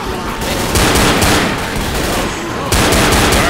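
Gunfire in the Left 4 Dead video game, dense rapid shots and bursts stacking into a loud continuous barrage, with a sharp new volley near the end.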